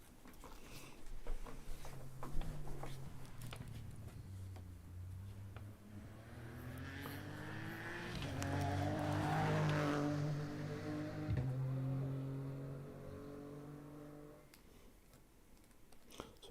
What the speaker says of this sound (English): Sam Leach just through in his Corsa.